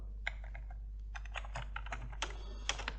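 Rapid close keystrokes on a computer keyboard while programming code, a dense irregular run of clicks over a low steady hum.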